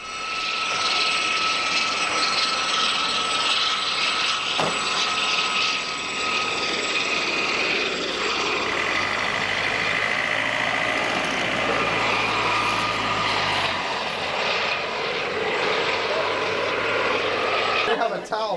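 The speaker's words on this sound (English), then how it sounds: "a French Army Gazelle helicopter took off for a patrol." Steady roar of a French Army Gazelle helicopter's engine and rotor taking off, loud and continuous, with a whining turbine tone throughout and no pauses.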